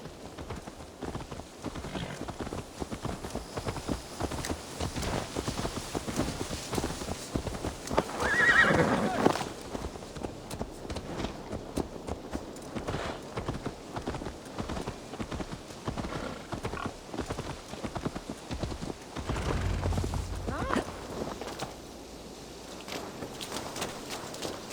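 A horse in the Viking-era game Assassin's Creed Valhalla clip-clops steadily along, hooves thudding over a steady game ambience, with a loud whinny cutting in partway through.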